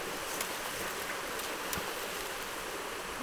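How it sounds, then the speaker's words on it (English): Water flows steadily in a soft, continuous hiss like a small coastal Alaskan creek, with a few faint knocks and rustles close by. "coming through a creek right here."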